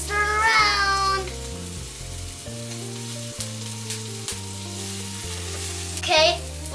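Food fries in a pan while it is stirred round and round, a continuous sizzle under steady background music, with a meow-like squeak near the start and again near the end.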